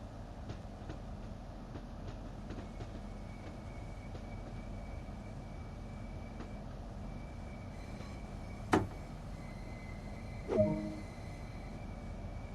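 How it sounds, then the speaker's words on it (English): A Hitachi-built Class 395 Javelin high-speed train in Train Sim World 2 rolls steadily along with a continuous low rumble and faint rhythmic clatter, broken by two sharp clanks near the end. "This particular train is a Class 395 Javelin built by Hitachi in Japan for European operation."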